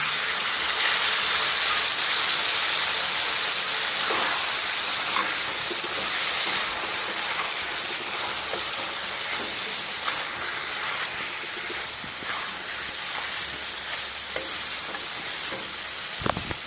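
Mustard paste and spice masala frying in a pan over a low to medium gas flame for a Bengali pomfret curry, a steady sizzle with occasional light scrapes and ticks.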